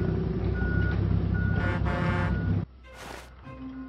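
Heavy construction vehicle rumble from a Plants vs. Zombies: Battle for Neighborville video game, with beeping and a horn-like tone, then the engine noise drops to a quieter idle with a brief hiss.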